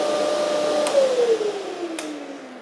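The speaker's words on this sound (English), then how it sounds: "whenever you need to start the extractor, press the switch for the extractor" A workshop dust extractor runs with a steady loud whine as its tone slowly drops and winds down, and two brief clicks sound as the switch is used.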